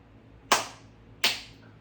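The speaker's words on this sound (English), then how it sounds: "I'm gonna clap." Hands clapping during relaxation training with a dog: two sharp, close claps about three-quarters of a second apart, each ringing briefly into a quiet room with no talking.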